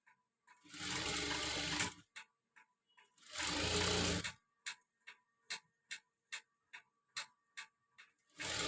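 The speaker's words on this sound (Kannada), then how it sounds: "ಈ ಥರ ಇಟ್ಟು ಸ್ಟಿಚ್ ಮಾಡ್ತೀನಿ." A sewing machine stitches cloth for a cross belt in two long continuous runs, followed by a steady series of short, evenly spaced bursts as it sews in brief spurts, close and clear with no talking.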